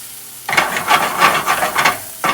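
Vegetables sauté in a pan: after a quiet half second, a hissing sizzle begins, swelling and fading in waves as the pieces are pushed around, with no talk.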